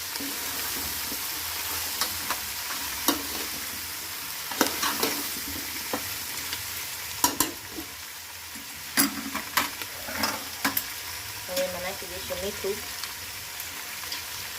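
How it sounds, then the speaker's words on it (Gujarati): Peas and mixed vegetables fry in oil for undhiyu while being stirred, a quiet steady sizzle broken by scattered scraping knocks of the spoon against the pan, with brief speech. "હવે આ બધા હલાવી નાખશું તેલ જેમ બને એમ તળિયાતું નાખવાનું"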